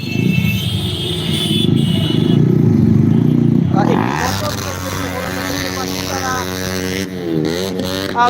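Passenger vehicles passing on a road at night, a loud engine roar that swells and fades away, followed by a voice talking over lighter traffic noise.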